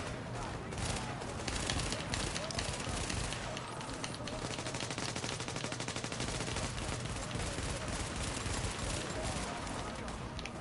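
Dense gunfire rattles in The Division, with pistol shots among many overlapping bursts forming a loud, continuous barrage while a player talks over it.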